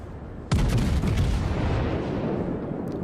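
Battleship main guns fire a volley in World of Warships, a sudden loud booming blast followed by a rumbling, crackling decay lasting a few seconds.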